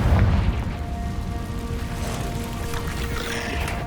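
A Confringo blasting spell goes off inside a cave in Hogwarts Legacy, one heavy low boom at the start that fades into a rumbling, crackling tail with steady game ambience and no voices.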